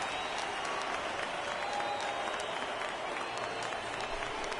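Steady roar of a baseball crowd cheering and applauding in MLB The Show 19 during a spring training game, a dense continuous wash of clapping and voices held at an even level throughout.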